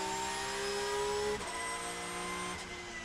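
An on-board race car roars at full throttle along the Magny-Cours circuit, a loud steady engine whine held at high revs, with two brief dips where gears change.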